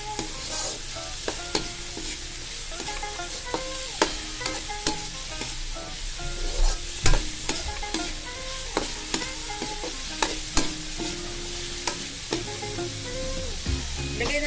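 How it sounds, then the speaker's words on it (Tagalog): Squid and carrots sizzle in a hot frying pan while a utensil stirs them, scraping and clinking in an irregular rhythm over a steady close-up fry. "Halu-haluin lang natin."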